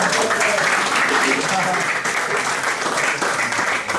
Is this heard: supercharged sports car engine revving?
no